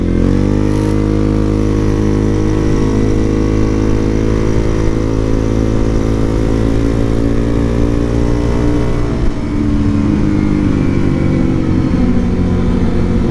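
A petrol car engine pulls steadily and loudly under acceleration to overtake, its harmonic drone rising in pitch, then easing off with a brief gear change before settling again; no one speaks.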